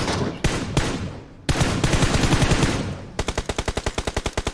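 Gunfire from a tower in PUBG Mobile: dense bursts of automatic shots, then a steady rapid run of evenly spaced loud cracks near the end, with no speech.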